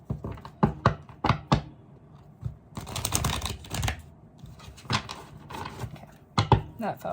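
A deck of tarot cards is shuffled in a run of crisp riffles and soft taps, with bursts of fluttering card noise and brief pauses between handlings.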